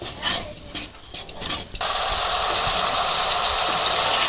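A spice mix of salt, turmeric, dried chili flakes and green chili paste is stirred in a pan, giving intermittent scraping strokes that give way to a steady, loud hissing fry.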